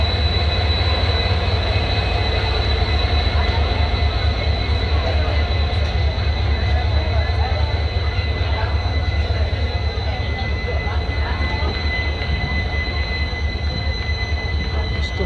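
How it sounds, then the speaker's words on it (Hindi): The Pune–Amravati Express (11405), heard from inside an ICF coach, rumbles loudly and continuously with steady wheel clatter and high metallic wheel squeal. Voices are faintly present in the background. "हमारा यहाँ से डिपार्चर हो चुका है"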